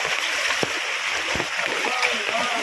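Strong floodwater current surging along a flooded street during a power outage, a continuous rushing wash with scattered splashes, while voices talk over it.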